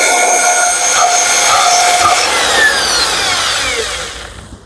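A power drill slowly spins an engine valve against its cylinder head seat to lap it, giving a steady whirring, grinding rub close by that holds for several seconds and then trails off.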